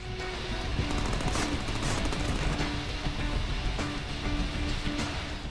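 Continuous, dense gunfire from the Deadpool video game: loud overlapping automatic shots and bursts blend into a constant barrage with scattered sharp impacts.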